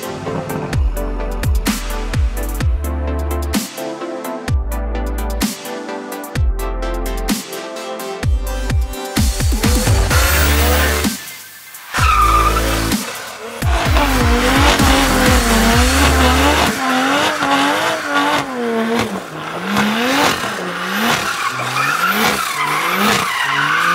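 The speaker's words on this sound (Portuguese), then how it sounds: "Você que curte uma tração traseira, fica com algumas imagens desse carrinho aí na pista" A BMW Z4 M40 with a Stage 2 tune drifts on a race track, its loud engine revving hard through gear changes while tires squeal continuously in long skidding slides, with no talk.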